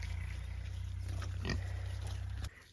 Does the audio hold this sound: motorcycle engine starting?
no